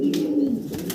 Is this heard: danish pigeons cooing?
yes